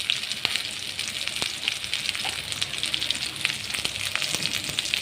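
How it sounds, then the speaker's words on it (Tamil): Onions sautéing in a pan for a bean and pea kootu, giving a constant close sizzle and crackle with occasional clicks from stirring, and no talking. "வெங்காயம் நல்லா வதங்கிட்டுருக்கு."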